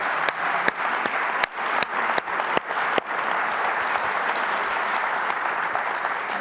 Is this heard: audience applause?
yes